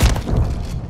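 An explosion in Call of Duty: Modern Warfare 3 hardcore multiplayer goes off at close range as a loud, deep thud and boom that rumbles and fades over about a second.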